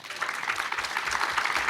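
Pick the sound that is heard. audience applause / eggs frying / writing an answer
audience applause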